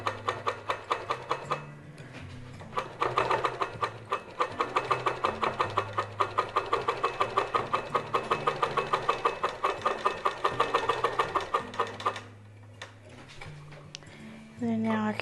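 A Handi Quilter Moxie XL longarm quilting machine on a Pro Stitcher Lite, stitching an edge-to-edge design on a small project at a short stitch length, gives off a fast mechanical ticking over its motor hum, pausing briefly near the end.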